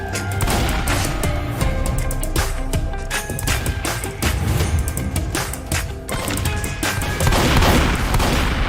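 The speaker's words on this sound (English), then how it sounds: "They're spamming their shotgun." Rapid repeated shotgun blasts in a party royale video game event, a dense string of sharp shots fired back to back, loud and close with clattering mechanisms between them.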